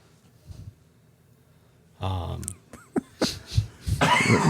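A few sharp coughs in quick succession after a quiet stretch, fairly close and loud, with some throat noise mixed in.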